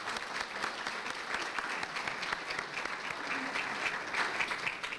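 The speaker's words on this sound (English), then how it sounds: "So big round of applause" Audience applause fills a room at a community health fundraising event, a steady dense clapping from a crowd that holds at an even level throughout.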